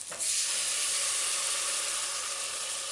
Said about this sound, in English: about after 2 minutes of sauteing the vegetables